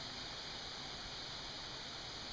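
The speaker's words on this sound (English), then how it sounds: "Water is, in fact, running out of the pond." Water running out of a beaver pond through a trickle tube, a steady even rush with hiss and gurgle, continuous and fairly faint throughout.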